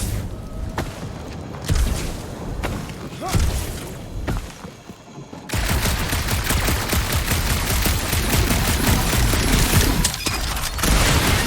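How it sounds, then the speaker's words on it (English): Video game gunfire in Guardians of the Galaxy on PS5: scattered shots and booms in a dark area, then a dense, sustained barrage of rapid shooting with thuds, loud and continuous over background game sound. "that aimless shooting isn't gonna scare the monsters away, right?"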